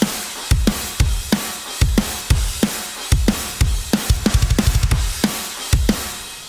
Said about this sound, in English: So I did add a dubstep kick and snare.